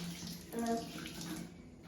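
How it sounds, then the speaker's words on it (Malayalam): Water runs steadily from a tap, a quiet close hiss, with a brief voice heard partway through. "വെള്ളം തുറക്കാട്ടെ അമ്മ"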